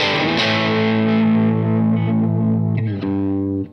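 A bright, broken-sounding garage-rock guitar tone rings out with heavy distortion, one sustained chord decaying before a second chord is struck near the end.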